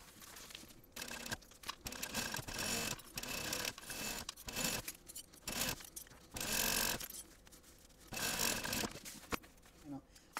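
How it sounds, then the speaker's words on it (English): A home sewing machine bastes a 1/8 inch seam around the panel of a fabric travel accessories bag, running in short bursts with brief pauses between them, close up and without talk. "now I want to baste all the way around using a 1/8 inch seam allowance"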